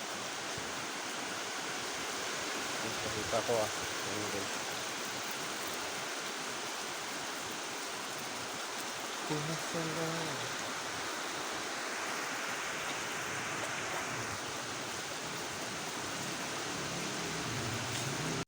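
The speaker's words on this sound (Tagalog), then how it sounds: "Lakas ng ulan." Steady, dense rushing noise of heavy rain fills the clip, with a brief voice speaking twice over the downpour.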